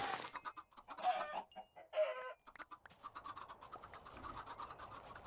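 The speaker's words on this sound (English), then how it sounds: "Yeah, there's a ton of chicken." Chickens in the Minecraft video game cluck and squawk in quick, close overlapping bursts, with a dense flock chatter rising and thickening into a steady busy din toward the end.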